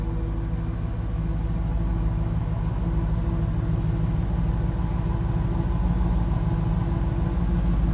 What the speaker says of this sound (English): Nothing crazy over the top for the exhaust, but a nice little deep throaty rumble